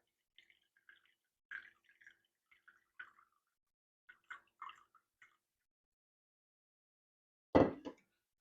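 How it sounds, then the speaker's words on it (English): Liquid is poured into a measuring cup in a kitchen, heard as a series of faint, soft trickles and drips in near silence, followed by a single louder splash or knock near the end. "So I'm going to pour into this measuring cup."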